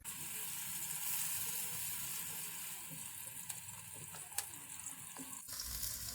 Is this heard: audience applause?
no